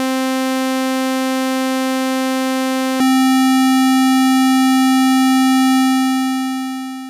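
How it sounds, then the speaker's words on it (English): A synthesizer oscillator sounds a steady, loud sustained tone whose timbre switches abruptly once from one buzzy waveform to another at the same pitch, then fades slightly at the end, with no voices. "You'll see different icons or labels on oscillators like sine, tri, saw, or square."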